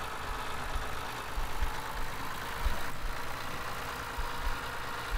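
Tractor engine from the video game Farming Simulator 15, pulling a trailer, idling with a steady low rumble throughout, fairly loud and alone with no talk over it.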